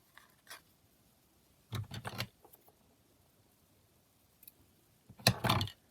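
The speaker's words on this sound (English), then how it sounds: "So I'll just cut a couple of those threads off." Scissors trim loose threads off a fabric ruffle on an altered-book junk journal page. There are two short, close snipping bursts a few seconds apart in an otherwise quiet room.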